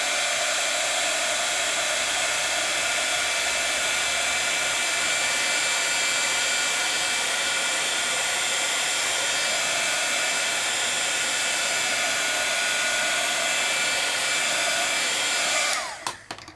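A craft heat tool blows continuously and loudly while heat-setting ink on a card project, a steady hissing roar that holds for about sixteen seconds before cutting off.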